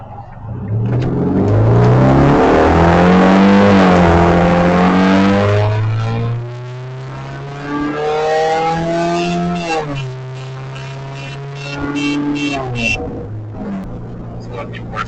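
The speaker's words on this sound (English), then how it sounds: "It's one of the worst sounds I've ever heard from a car." Car with a badly damaged, raspy exhaust revving up and down, loud and close, rising and falling in pitch across several throttle blips.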